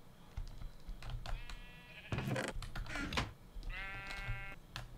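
Sheep in a video game sheep farm bleat twice, clear and fairly close, mixed with rapid clicking keyboard-like taps and low background rumble.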